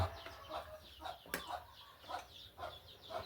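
Chickens cluck close by outdoors in a rural yard, repeated short clucks in an uneven rhythm with a brief sharp click or flap in the middle, over soft background noise.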